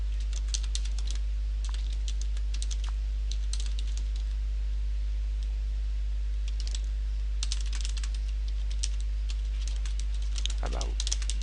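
A code comment typed on a computer keyboard, rapid irregular bursts of close key clicks with short pauses between runs, over a steady low electrical hum, with a brief voice sound near the end.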